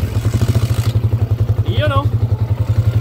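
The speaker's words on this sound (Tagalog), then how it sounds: "Start na rin natin tong motor ni boss" A motorcycle engine runs close by with a fast, even thudding idle, a quick rhythmic putter that holds steady throughout, while someone speaks briefly over it.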